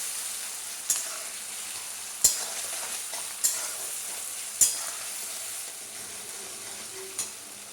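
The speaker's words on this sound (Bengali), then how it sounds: "খুব ভালো করে টমেটো আর পেঁয়াজটা লাল লাল করে ভেজে দেবো" Chopped tomato and onion frying in a pan for a chicken and potato curry, a continuous low sizzle broken by five sharp spatula knocks against the pan at irregular intervals, no talking.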